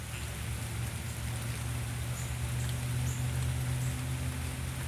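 Steady rain falls outside as a continuous soft hiss under a low hum, fairly faint and unchanging throughout, with no voices.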